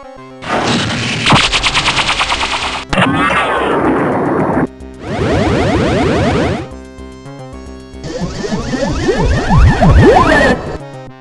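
A robot fires its weapon in the Flight of the Amazon Queen video game: several loud, harsh bursts of rapid, crackling, metallic blasts, separated by short gaps.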